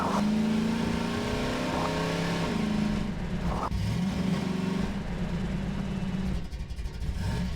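A car engine revs in Half-Life 2, a loud steady drone with rising and falling pitch sweeps as the throttle changes, close and continuous throughout.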